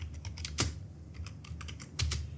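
Someone types a sentence on a computer keyboard during a Microsoft Excel lesson, producing a steady run of close, crisp key clicks at an irregular pace, with a few louder taps and no talking.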